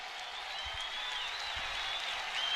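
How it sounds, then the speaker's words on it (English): Nebraska crowd at a college wrestling dual against Iowa, a faint, distant wash of applause and cheering that holds steady and swells slightly toward the end. "Robb is going to be coming with everything he's got as this Nebraska crowd gets to their feet."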